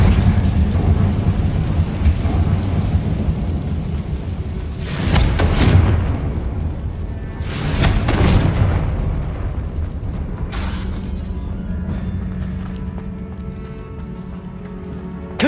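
Confringo blasting-spell explosions in the game Hogwarts Legacy: two heavy booming blasts a few seconds apart over a constant rumbling game backdrop, loud and full, with no voices.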